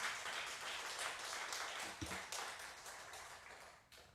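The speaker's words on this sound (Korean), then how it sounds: "우리 박수 한번 보내주시기 바랍니다" A church congregation claps during a Korean worship service, a steady wash of applause from many hands that holds evenly and fades slightly at the close.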